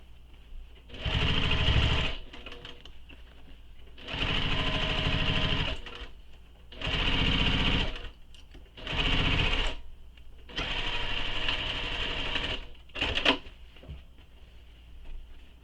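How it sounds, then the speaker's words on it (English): Sewing machine stitching fabric seams on a handmade plush toy, running in five or six loud bursts of rapid mechanical whirring separated by short pauses, close and with no talking. "I'm going to go down on this side and sew it again, just because I feel like it kind of shifted on me a little bit."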